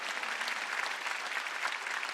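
A congregation clapping during a Wednesday church service, a brief, dense burst of applause from many hands, steady and fairly distant.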